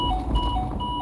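A faulty car alarm beeps in a repeating series of short, steady electronic tones at a moderate distance, sounding over a low background rumble.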